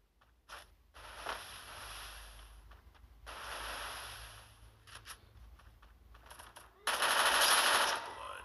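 Gunfire in the Free Fire battle game: several rapid automatic bursts separated by short pauses, the last burst the loudest, with no talk over it.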